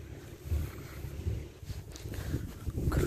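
A low, steady engine rumble runs nearby outdoors at night beside a residential building, mixed with wind noise on the microphone and faint outdoor ambience.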